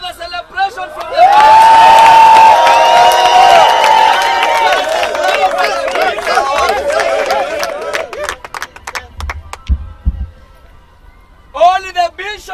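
A big crowd outside a house cheers, shouts and whoops loudly in celebration, with clapping and running feet mixed in, while a voice talks over the noise.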